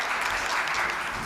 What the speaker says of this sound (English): Please give a big round of applause for Garima ma'am.